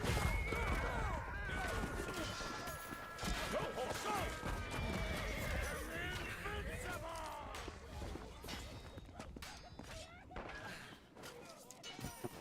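Horses in the medieval combat game Chivalry 2 neigh and whinny amid galloping hoofbeats and chaotic battle noise, close and loud, with clashing and crowd-like shouting throughout.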